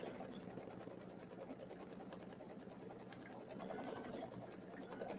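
An embroidery machine running a tack-down stitch for a Kimberbell welcome pillow, giving a quiet rapid mechanical whirring and needle chatter that stays steady and even, with no talking.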